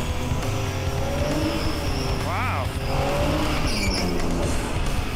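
A Big Block Chevy Nova doing a burnout at a drag strip, a roaring engine with tire squeal and a brief skid chirp heard from the stands, with people talking and a crowd throughout.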